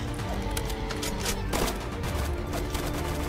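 Gunfire in the Roblox zombie game Zombie Uprising, a steady dense volley of rapid shots running through the whole stretch, with a sharper burst in the middle and a faint voice now and then underneath.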